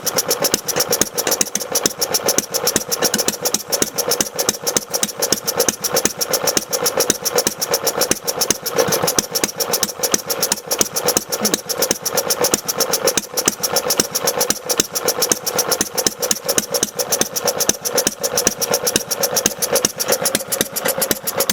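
A rebuilt Briggs & Stratton Model Y small engine idles outdoors in snow, a steady fast chugging putter with even firing pulses, loud and unbroken throughout.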